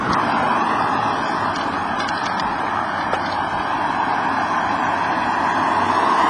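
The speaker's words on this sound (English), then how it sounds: "there's a bunch of cars, and somebody doing yard work around me" Steady traffic from a bunch of cars passing near a spot where someone is doing yard work, a continuous road rumble with faint intermittent clatter, fairly loud and unbroken, with no talking.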